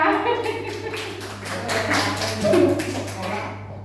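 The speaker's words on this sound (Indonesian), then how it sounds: "Tepuk tangan untuk kita semua." A group of teachers in a school training session claps their hands in a short burst of scattered, uneven claps lasting a few seconds over a steady background hum.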